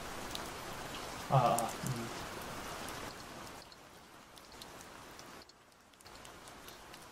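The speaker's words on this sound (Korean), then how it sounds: "이게 잠이 잘 오는 빗소리라고 하더라고요." A heavy rain shower plays through a small speaker as a steady hiss of raindrops at low volume, briefly broken by a short vocal sound and then fading softer toward the end.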